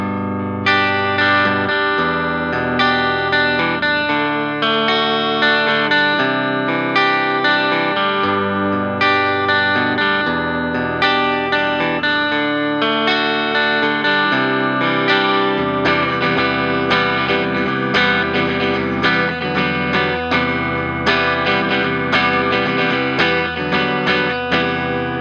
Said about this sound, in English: Just going to play a bit of clean, bit of distortion, just to give you an idea of what these pickups sound like